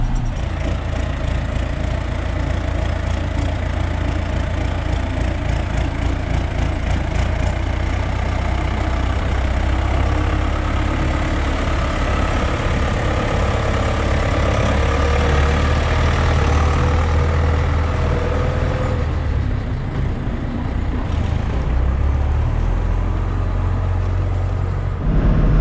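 A tractor engine drives a slurry agitator in a continuous heavy, low rumble that holds steady and loud throughout, with a dense mechanical churn on top and no voices.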